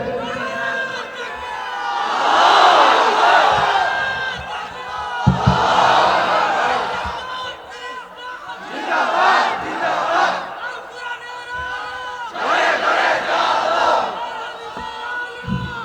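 A large crowd at a religious gathering shouting the takbir chant, four loud, swelling waves of massed voices in call-and-response rhythm, each rising and fading before the next.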